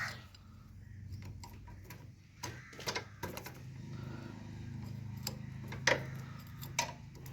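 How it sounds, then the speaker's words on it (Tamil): Sharp metal taps ring out as a mechanic strikes the sprocket bolts of a TVS Star City 110 motorcycle to loosen them. The taps come as scattered single knocks and small clusters over a quiet workshop background. "தட்டி லூஸ் பண்ணால் ஈஸியாக வந்துடும்"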